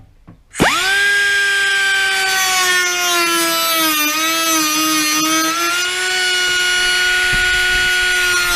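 A power drill spins up sharply and holds a high, steady whine as it drives screws to attach hinges on an outdoor electric grill cover, the pitch dipping slightly under load, with no talking.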